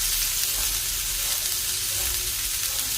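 Curry leaves frying with rock salt in hot oil, a loud, dense, continuous sizzle filling the whole stretch with no pauses.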